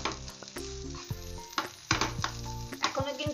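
Vegetable patty filling of boiled potatoes fries in a pan with a crackling sizzle, punctuated by irregular clinks and scrapes of a spatula stirring against the metal, close and fairly quiet.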